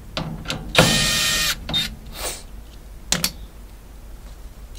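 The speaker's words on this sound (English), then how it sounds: "Now we want to get in and remove all of these little screws." Small quarter-inch screws being backed out of a Maytag dryer panel, bursts of ratcheting clicks from a driver mixed with light metallic taps and handling noise, close and fairly quiet, with no talking.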